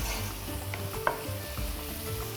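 Onions fry and are stirred in a pan while a red soup is cooked, giving a steady close sizzle with occasional scraping stir sounds and a light clink of utensil on pan.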